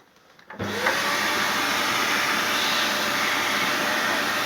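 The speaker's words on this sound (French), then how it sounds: "Mini-Prof va nous mettre un petit coup d'aspirateur" A vacuum cleaner switches on abruptly and then roars with a steady, loud, high-pitched whoosh while it cleans the fans of a desktop PC, with no talking heard.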